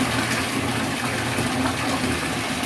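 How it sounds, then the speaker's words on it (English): A bathroom faucet runs full, pouring water in a loud, constant gush with a steady rushing hiss and no pauses. "I'm going to go ahead and flick the water on"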